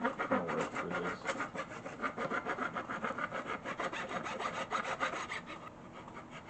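A file rasps back and forth across wood while a crossbow is being built, giving quick, rhythmic scraping strokes that are close and fairly quiet and fade slightly near the end.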